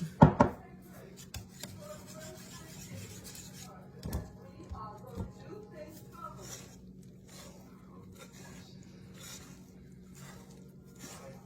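Sourdough dough being mixed by hand, with soft wet squishing, sticky slaps and scraping close up, and a few sharper knocks at the start. A person talks over it.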